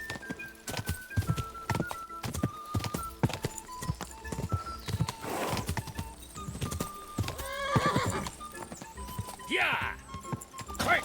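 In the video game Kingdom Come: Deliverance II, a horse races along with quick, rhythmic clip-clopping hooves and several loud neighs and whinnies, close up, while people talk over the action.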